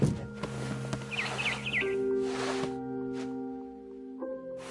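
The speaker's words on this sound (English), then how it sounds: "Then I heard chirping outside my window. It was a barn swallow going back to her nest." Quick, high barn swallow chirps in the video game What Remains of Edith Finch trill briefly over a steady, humming musical backdrop with soft tones, faint and short-lived.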